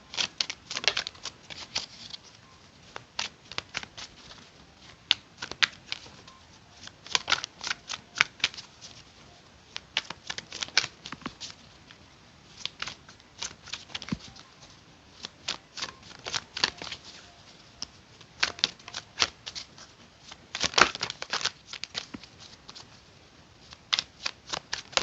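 Tarot cards being shuffled by hand, crisp riffling bursts and soft flicks repeating in uneven clusters, close and fairly quiet, with no voice over them.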